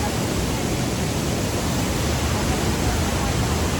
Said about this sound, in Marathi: तर बघू शकता माझ्या मागे आहे वॉटरफॉल.